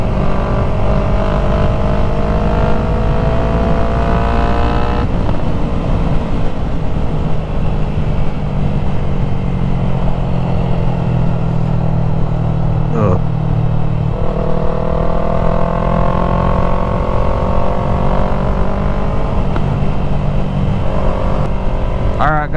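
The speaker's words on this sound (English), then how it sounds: "I've literally been playing with my exhaust." A loud Yamaha MT-03 motorcycle with a full exhaust drones and revs throughout, pitch rising and falling in waves, with wind rush and a brief voice.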